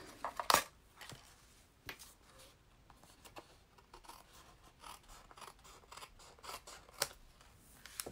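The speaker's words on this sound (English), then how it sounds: "And then I'm going to go ahead and cut the excess." Scissors snip through excess paper while making a Christmas card, a handful of quiet, crisp cuts spaced irregularly in a still room.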